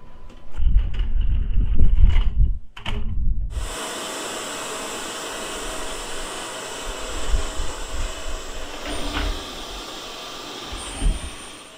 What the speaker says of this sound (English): There's a lot you can do with an ash vac, a shop vacuum cleaner.